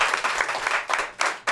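Audience applause on a French sports talk show, a steady wash of clapping from a crowd, loud and continuous with small surges and dips throughout.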